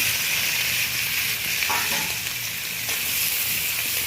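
Fried vegetables are added to shrimp frying in a pan, and the oil sizzles and hisses steadily and loudly while a spoon stirs through them.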